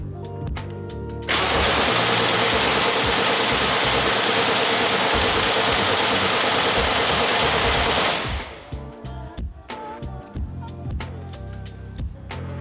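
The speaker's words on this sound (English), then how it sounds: "I'm hoping now I can just hit this starter button and we'll make sure it spins free." A Dallara F3 race car engine cranks on its starter with a slightly lazy battery: a steady, loud, dense mechanical whirr runs for about seven seconds, then cuts off, leaving quieter knocks and clatter.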